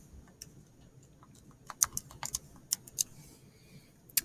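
Keys tapped on a calculator keypad while entering a trigonometry calculation, a sparse series of soft, close clicks in an irregular rhythm over a quiet background.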